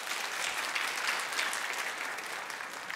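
Congregation in a church breaking into steady applause, a dense continuous wash of clapping from many people that holds at an even level for the whole stretch.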